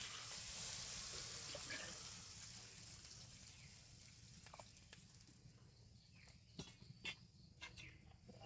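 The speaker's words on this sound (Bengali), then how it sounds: "পরিমাণ মতন জল দিয়ে দিই।" Water is poured into a pan of egg curry with cauliflower and potato, a soft splashing pour near the start that tapers off, followed by a few faint clinks of a utensil.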